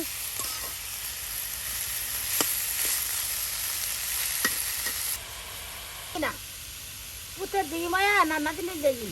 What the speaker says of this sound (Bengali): মূলা শাক ভাজি এখন তেলের সাথে সুন্দর করে শাক পাতাগুলো মিক্সড করে নেওয়া হচ্ছে